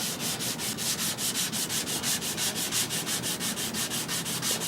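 Hand sanding on a wood veneer TV cabinet makes a brisk, regular back-and-forth rasp, each stroke repeating rapidly and evenly up close, with no voices.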